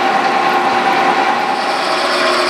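A high-speed end mill grinds through a hardened steel weld on a Jeep gun mount, giving a loud, continuous metallic whine with a steady tone and no pauses or voices over it.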